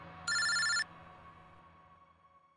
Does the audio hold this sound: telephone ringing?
yes